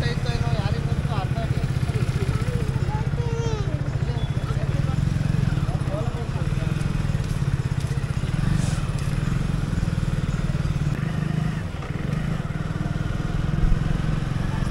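A new Hero Splendor Plus 2.0 motorcycle runs steadily on a road ride, its low engine hum continuing beneath someone talking throughout.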